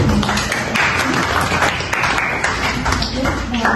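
A classroom audience applauds after a student group finishes its presentation, a steady patter of clapping that runs under a speaking voice throughout.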